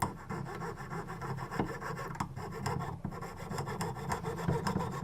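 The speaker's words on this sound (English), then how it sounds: "I'm going to go straight down and saw through both at the same time" Jeweler's saw cutting straight down through a silver ring, a steady rasping stroke repeated close up in an even back-and-forth rhythm, alone.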